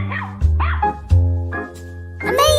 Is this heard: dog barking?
yes